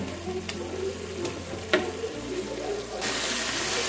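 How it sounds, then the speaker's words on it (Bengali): Yogurt stirred into hot oil in a pan while cooking palak paneer gives a steady, close sizzle with a few sharp stirring clicks, and the frying grows louder and denser toward the end. "দইটা দিয়ে আমি ভালো করে একটু মিশিয়ে নেব যতক্ষণ না তেল ছাড়ছে"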